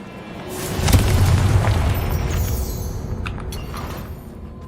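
A Confringo blasting spell detonates in Hogwarts Legacy, a deep booming explosion that swells quickly and rumbles on before fading into lighter crackling debris, with no voices over it.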